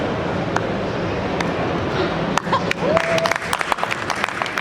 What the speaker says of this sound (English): See, that's a better round of applause.